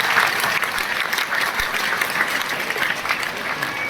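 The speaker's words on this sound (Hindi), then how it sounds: "जोरदार तालियां" Loud, sustained applause from a crowd gathered for a religious discourse at Amarpura Dham, a dense wash of clapping filling the room at an even level throughout.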